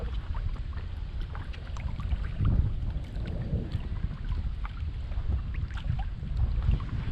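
Strong wind buffets a kayak on a marsh, a steady low roar of gusts and wind noise with faint water sloshing close by.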